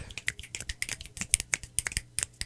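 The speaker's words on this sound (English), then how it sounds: "let's do the beatnik applause" Beatnik-style applause of finger snapping from a small group, a rapid irregular series of sharp, crisp snaps close by, with no talking.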